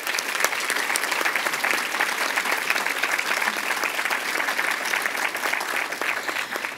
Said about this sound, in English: We please have a round of applause for our second group of nominees.